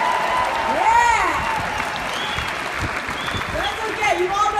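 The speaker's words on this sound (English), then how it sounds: "give yourself a round of applause" A large festival crowd of over a thousand claps in the stands, a broad wash of applause heard at a distance, with whoops and a voice rising over it.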